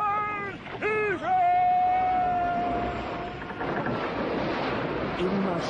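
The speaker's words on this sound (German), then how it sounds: "Immer schneller wird das Boot von der Strömung vorwärts getrieben, über die Wasserfälle hinweggehoben und an Land geworfen" Roaring rushing water from an audio drama scene of a boat swept along by a current over waterfalls, with a whooshing wind-like surge. Strained voices cry out over the top at the start, and the wash continues loud afterward.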